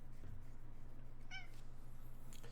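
A house cat lets out a single short meow partway through, faint and somewhat distant over a steady low indoor hum, with no one talking.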